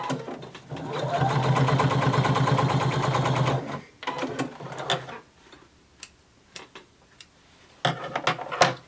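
A home sewing machine stitches through several layers of denim at the side of a jeans pocket, running loud and steady for about three seconds before stopping, followed by a few sharp clicks and a final short burst of stitching.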